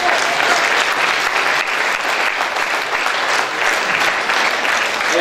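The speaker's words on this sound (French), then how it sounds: "Merci d'applaudir encore une fois ces merveilleux comédiens" A theatre audience applauds the actors after a performance, dense and loud, steady clapping filling the room throughout.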